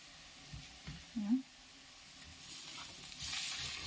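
Ginger garlic paste frying among fried onions in a pan, a soft sizzle that swells louder toward the end, with a few light stirring taps and a voice talking over it.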